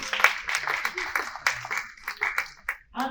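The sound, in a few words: audience applause welcoming a speaker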